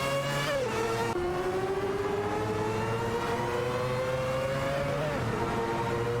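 Engines of a Mazda 787B and a Porsche 962C Longtail in a video game race, a continuous droning roar with tones that climb steadily during acceleration and drop at gear shifts, loud and steady with no talk.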